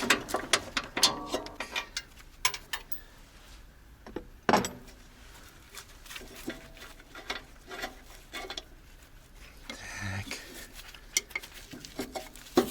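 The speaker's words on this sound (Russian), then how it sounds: "Сейчас попробуем саму камеру открутить." Faint metallic clinks, scrapes and ratcheting clicks as an air brake chamber is unscrewed on an old ZIL-130 crane truck, scattered irregularly across a quiet background with a few sharper knocks.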